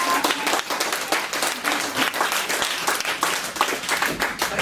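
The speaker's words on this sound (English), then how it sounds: "I got claps like this, and then I got one clap up here." An audience in a Unitarian church gives sustained applause, many hands clapping densely and steadily throughout, loud and full with no break.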